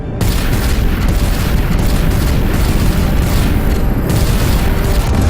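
Sustained weapons fire against the Celestial in a Guardians of the Galaxy game, a dense, loud, continuous barrage of booms and blasts with no pauses.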